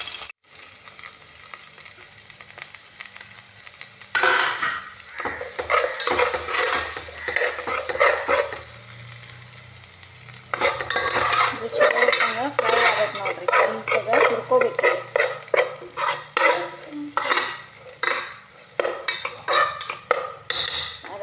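Sheer khurma ingredients fry in ghee in a pan, with a steady sizzle and repeated stirring scrapes and spoon clatter against the metal, loud and close, pausing briefly partway before resuming more vigorously.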